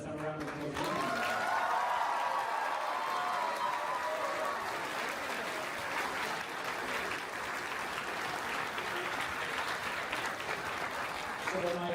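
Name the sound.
audience round of applause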